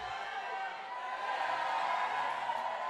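The crowd at the Bloc Shop Open 2019 bouldering finals reacts to a climber on the wall, with a continuous murmur of voices and low cheering at moderate distance for a few seconds and no single loud outburst.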